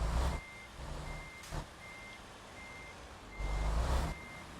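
Truck reversing in American Truck Simulator, a steady series of evenly spaced electronic backup beeps over a low engine rumble, with short air-brake hisses and a few louder bursts.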